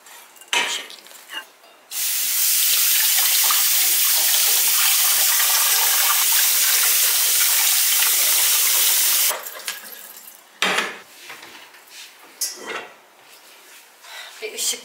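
Dishes being washed at a home kitchen sink under a steady, loud stream of running tap water lasting several seconds, followed by clinks and knocks of plates being handled once the tap stops.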